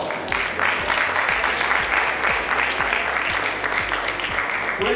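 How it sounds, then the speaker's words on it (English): Sustained applause fills the room at a restaurant awards night, steady dense clapping with faint low thumps underneath. "Give yourselves a big round of applause."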